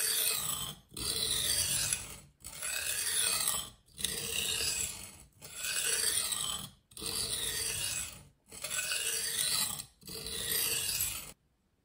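Knife drawn across a Sharpal 162N 325-grit diamond plate: eight rhythmic, even rasping strokes separated by short pauses, close and clear, with no talk.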